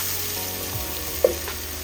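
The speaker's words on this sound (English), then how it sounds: "Let it fry for 2 minutes." Steady sizzling of beef with thyme frying in a pan, a continuous hiss with one brief clink partway through.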